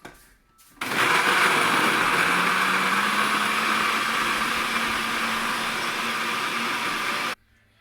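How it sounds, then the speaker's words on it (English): A kitchen blender whirring through carrots to make carrot juice: after a brief quiet start the motor roars on loud and steady for about six seconds, then cuts off abruptly. "I want the carrot to be very well blended, so I'm not gonna fool the blender"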